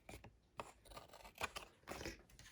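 Scissors trim the edge of a handmade card front, a quiet run of short snipping and rasping cuts repeating every half second or so, close up with no talk.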